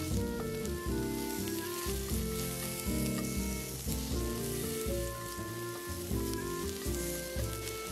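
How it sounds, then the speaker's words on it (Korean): Half an onion stir-frying in a pan, a dense, steady sizzle crackling loudly throughout, with music playing underneath and no talk. "양파 반 개를 볶아주세요"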